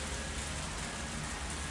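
Light rain from a visual novel soundscape, a steady soft hiss of drops falling on a surface, even and continuous throughout with no voices.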